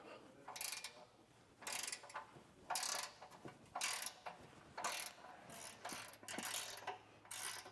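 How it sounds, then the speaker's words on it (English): An 18mm wrench ratchets bolts off a bracket on a 2024 Ford Bronco during a trailer hitch install, producing faint, repeated clicking bursts in an uneven rhythm, close by and with no voices. "with an 18mm wrench, we'll get both of those removed"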